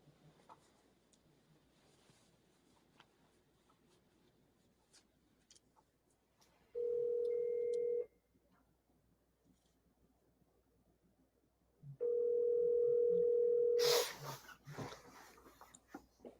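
Ringback tones on a phone call before it goes to voicemail: two steady electronic rings close by, one short and one longer, separated by silence over a faint background hiss.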